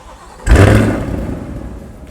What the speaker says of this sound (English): I could let you guys hear the exhaust